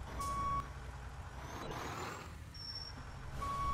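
A fire truck manoeuvres in the video game EmergeNYC, with a quiet engine rumble, a thin electronic beep tone at the start and end and a brief hiss in between, all faint.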